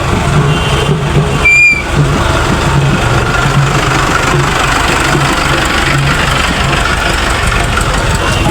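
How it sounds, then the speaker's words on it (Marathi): Tractor engines rumble steadily through a village Dussehra procession, a dense, continuous mid-pitched drone with a brief louder surge near the start and no talk. "अजून पूर्ण गावचे ट्रॅक्टर जाणार तिथं"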